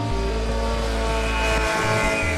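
A radio-controlled model plane with an Ardupilot autopilot flies at about half throttle, its steady motor drone loud and continuous with a low rumbling hum throughout.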